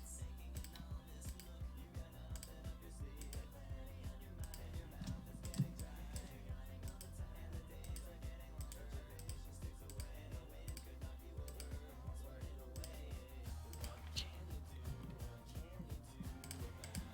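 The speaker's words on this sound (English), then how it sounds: "That way you guys don't hear all the clicking I do." Mouse and keyboard clicks from someone drawing on a computer go on steadily as soft, rapid ticks and taps, close but faint, under a low continuous hum.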